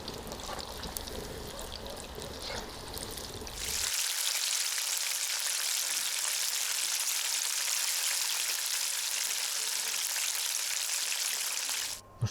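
Hot oil sizzles and crackles steadily as chicken wings fry in a kazan, a dense hissing fry that suddenly grows louder and stays constant for several seconds.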